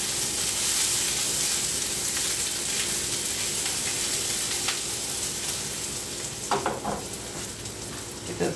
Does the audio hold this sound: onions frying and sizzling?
yes